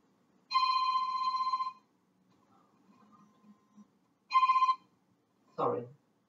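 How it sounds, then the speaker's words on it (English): A phone rings with an incoming call in two electronic trilling bursts, the first over a second long and the second shorter, with quiet pauses between and a brief voice at the end. "just having someone trying to call me"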